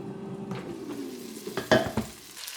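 Cumin chicken wings being flipped in an air fryer basket: a soft fan hum under faint sizzling, then a few quick clatters and scrapes of tongs and basket near the end.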